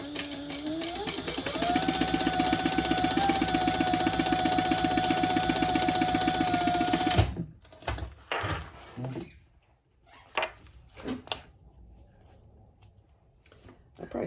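A sewing machine stitches along a folded fabric edge, a close steady buzz with a rising motor whine for about seven seconds, then stops abruptly, followed by scattered handling clicks and rustles with quiet talk.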